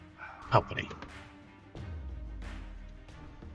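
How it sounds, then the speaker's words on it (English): A puppy barks at other dogs in a yard, faint and distant in the background, while someone speaks over it and game sounds carry on. "is the puppy barking at other dogs in the yard"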